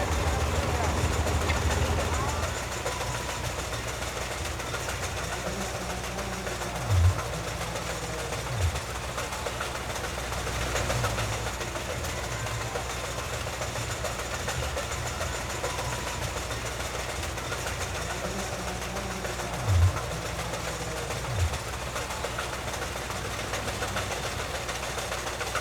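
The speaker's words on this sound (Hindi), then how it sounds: "देखो हमारा इंजन स्टार्ट हो गया" An engine powering a fairground swing ride runs steadily at low pitch throughout, with a few brief knocks and thumps, while people talk nearby.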